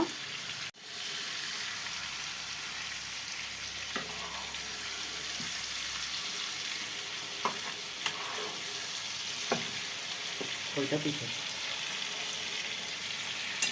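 Tandoori chicken pieces fry in hot oil in a covered pan on a gas stove, giving a low, steady sizzle with occasional soft pops and clinks throughout.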